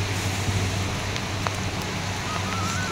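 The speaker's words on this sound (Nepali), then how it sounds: "कत्रो बिहानबाट रोकिँदै छैन पानी" Steady rain that has been falling since morning, a continuous close hiss with a low hum underneath and a few sharper drips, heard without speech.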